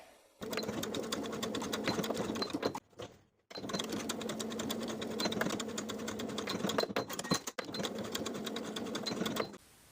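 A sewing machine stitches in the ditch along an elastic shorts waistband in rapid, steady bursts of needle chatter, pausing briefly twice before resuming, close and clear with no talking.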